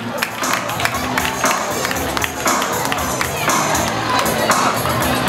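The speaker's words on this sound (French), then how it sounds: "applaudissez, applaudissez, applaudissez pendant que nos deux ailleurs vont descendre." Schoolchildren at a school science day in N'sel clap and cheer loudly, a continuous crowd roar of shouting voices mixed with applause throughout.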